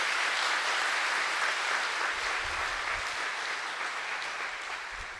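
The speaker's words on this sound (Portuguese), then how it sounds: "Pode aplaudir bem forte" A church congregation applauds the reading of the word of God, a steady dense wash of clapping that runs without a break and eases slightly toward the end.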